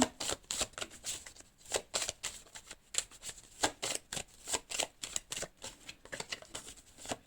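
Tarot cards being shuffled by hand, a rapid series of crisp riffling bursts repeating in an uneven rhythm, close and fairly quiet with no voices.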